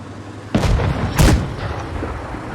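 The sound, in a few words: tank cannon shot in a tank video game, M-VII-YOH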